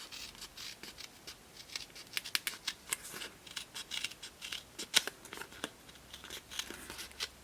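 Scissors trim a paper card in a quick run of crisp, close snips, some clustered and some spaced apart, with faint rustling between cuts.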